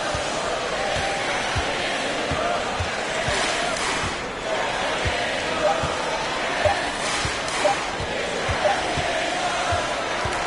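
A basketball arena crowd in the NBA 2K23 video game roars steadily through a lopsided Suns versus Rockets game, a loud continuous wash of cheering punctuated by sharp ball bounces and sneaker squeaks, with commentators talking over it.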